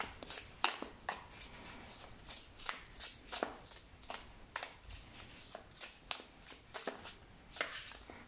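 Tarot cards being shuffled by hand, a close, soft, rhythmic series of riffling flutters and light slaps repeating steadily, fairly quiet.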